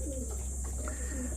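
Homing pigeons coo softly in a low, repeated murmur over a steady background hum, with no one speaking.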